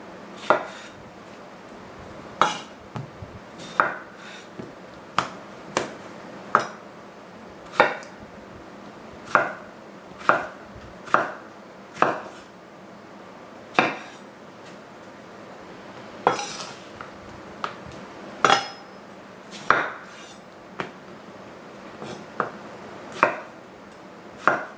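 A knife chops summer squash into even pieces on a cutting board, sharp isolated thunks landing irregularly about once a second over a quiet kitchen background, with no talking.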